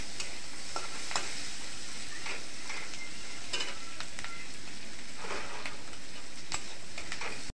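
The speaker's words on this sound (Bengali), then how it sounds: "কাঁচা লঙ্কা, সাদা জিরে তেলের মধ্যে একটু ভেজে নিতে হবে" Green chillies and cumin seeds fry in hot oil with a steady, dense sizzle, broken now and then by the scrape of a spoon stirring the pan.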